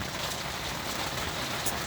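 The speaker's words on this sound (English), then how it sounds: "you can just enjoy the sound of the rain" Rain falling steadily, a dense, even hiss of drops on surfaces with no pauses, close and fairly loud throughout.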